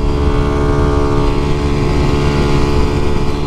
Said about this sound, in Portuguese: As molas de válvula da minha moto, eu acho que ela tá com algum BO